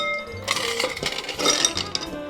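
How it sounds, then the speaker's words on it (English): Ice clinks and rattles against glass as it is added and stirred into a Bobby Burns cocktail, with a run of bright, close clattering knocks that swell and fade over a couple of seconds. "we're gonna put in our ice and give it a nice stir"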